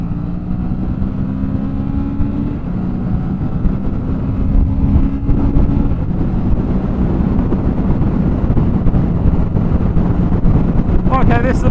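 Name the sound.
Kawasaki Z650 motorcycle riding at motorway speed, wind noise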